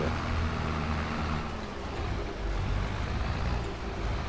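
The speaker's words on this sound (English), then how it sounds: "That's a noisy tractor." A loud tractor engine in Farming Simulator 22 drones continuously with a heavy low rumble and steady broadband roar throughout, close and unbroken.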